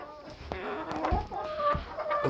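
Frizzle hens cluck inside a coop, a close, soft run of several short, uneven clucks and murmurs over a quiet background.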